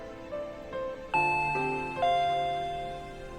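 A doorbell rings in the Higurashi When They Cry visual novel game: a soft, clear two-tone chime that strikes and rings out slowly, after a few quieter tinkling notes.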